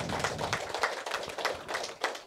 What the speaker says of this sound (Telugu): ఈ యొక్క ఆఫీస్కి ఒకసారి గట్టిగా చప్పట్లు కొడదాం.